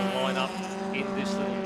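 Hyundai Excel race cars at Sandown International Raceway in Victoria, a steady droning engine note as several cars line up in a train, with a commentator talking over the noise throughout.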